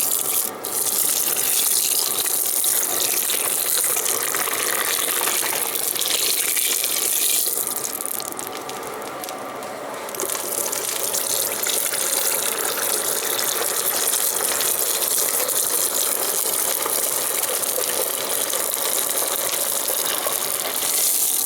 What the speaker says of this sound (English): So what I do is I pour some water on my fire.